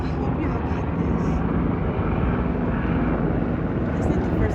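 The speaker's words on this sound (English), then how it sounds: "And it's big ass planes like that." Large airplanes pass overhead, giving a steady, loud roar of jet engine noise that holds at an even level without a break from start to finish.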